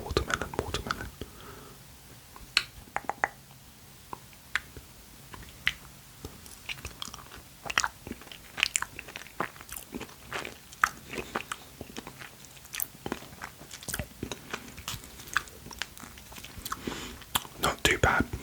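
Frozen watermelon gummy bear sweets being bitten and chewed close to the mic, with a series of sharp crunchy bites and wet mushy chewing at an irregular rhythm, set against quiet background.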